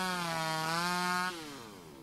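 A chainsaw in the video game Mad Father revs with a steady buzzing drone that drops abruptly in pitch partway through, loud and alone with no voices.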